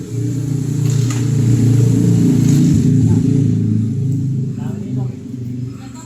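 Vehicle engine just started and idling, a loud steady low rumble running continuously and easing slightly toward the end, with voices talking over it.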